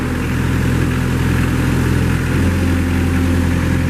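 The engine of a 2014 Moffett M55 truck-mounted piggyback forklift runs steadily at close range, a loud, constant low hum with a rough mechanical texture and no change in pace.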